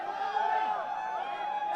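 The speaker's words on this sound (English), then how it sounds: "round of applause for that pass" Crowd noise at a Sri Lanka inter-club rugby league match between Kandy SC and Havelock, a steady roar of applause and cheering from the stands running under a commentator's voice.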